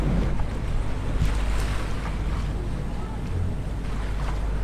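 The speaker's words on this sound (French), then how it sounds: "je vais écouter le bruit des vagues et regarder l'horizon" Ocean waves wash against a sailboat crossing the Atlantic, a constant loud roar of water and wind buffeting the microphone, steady throughout with no clear speech.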